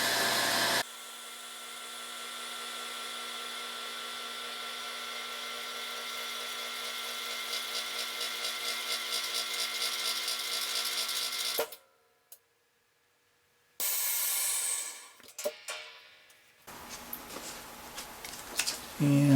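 A Vacmaster VP 215 chamber vacuum sealer runs its pump with a loud, steady hum and a rising tone, then cuts off into silence before a short hiss of air and clunks as the lid releases.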